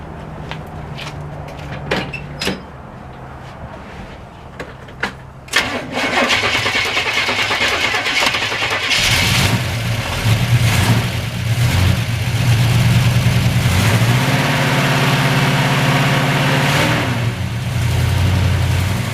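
A car engine starting with boost from a Schumacher jump pack: a few clicks and a short cranking attempt, then the engine catches and settles into a loud, steady idle with slight rev swells.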